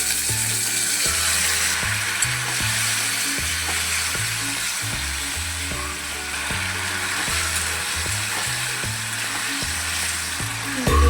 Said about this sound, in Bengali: এবার মশলাটা ভালোভাবে কষিয়ে নেবো।